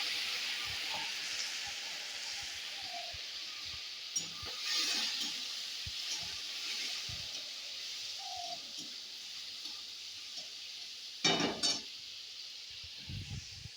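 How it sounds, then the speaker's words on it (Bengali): Potatoes frying in oil with bay leaf, a continuous soft hiss of hot oil with a few faint clinks and a brief louder clatter near the end. "প্রথমে তেল, তারপর তেজপাতা দিয়ে আলুটাকে ভাজতে দিয়েছি।"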